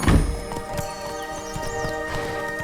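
Horse hooves clip-clopping at a run in the game Witcher 3, a steady rhythmic beat of close, moderately loud hooffalls over ambient game music, with a brief whinny-like sound near the start.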